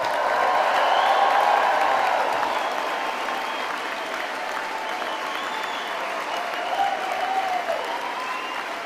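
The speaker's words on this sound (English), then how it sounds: "But one more big cheer for everybody." Graduation ceremony audience at the University of Stirling applauding and cheering, a dense, sustained wash of clapping and crowd cheers that swells loudest early on and then carries on steadily.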